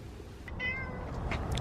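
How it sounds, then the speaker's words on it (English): A domestic cat eating oat grass lets out a single clear, nearby meow, short and tonal, over a low background rumble. "They love this oat grass, right, Simba? You love it? Simba says he loves it"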